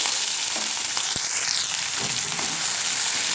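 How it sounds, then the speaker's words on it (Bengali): Onion and garlic fry in hot oil with dried red chillies and bay leaves, the base for a sour jujube dal. A steady, close, full sizzle runs throughout, with one brief clink partway through. "একটু লাল করে ভেজে নিব।"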